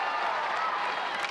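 Hockey crowd at a professional women's game, Montreal at New York, cheering and clapping after a goaltender's save, a dense steady roar of voices and applause filling the arena with no gaps.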